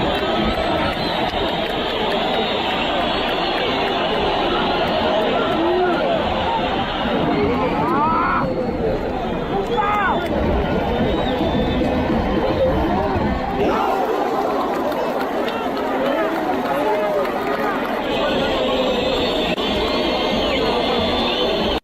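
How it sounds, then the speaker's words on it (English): Football crowd at a Millonarios match whistles as booing, a wide, shrill wash of many whistles over loud stadium chatter and hubbub, sustained throughout with a voice talking close by. "So when you hear all that whistling, it's booing"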